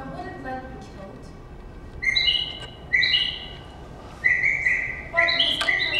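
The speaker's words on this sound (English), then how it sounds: "You can hear it singing joyously in this cage." A caged bird sings on stage during a theater performance of Ondine, its bright whistled chirps coming in short bursts over a low background hum.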